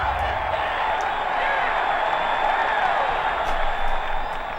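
Steady broad crowd cheering and applause from a golf gallery in Tiger Woods PGA Tour 2008, a continuous loud wash of noise with no gaps.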